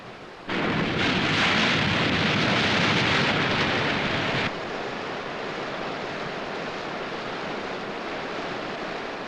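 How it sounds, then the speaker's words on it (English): A Mount St. Helens mudslide rushing down the mountain, a loud, dense roar that surges in abruptly, holds for a few seconds, then drops to a steady lower rush. "There is a mudslide southward coming down the mountain right now."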